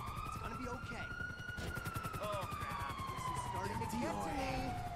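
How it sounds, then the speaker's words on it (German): An ambulance siren wails steadily and slowly falls in pitch in the game GTA 5 Online. It stays loud and continuous under other game noise, and voices talk over it. "Ah, Krankenwagen, ja, da Ambulanz."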